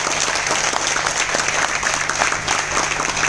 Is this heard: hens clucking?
no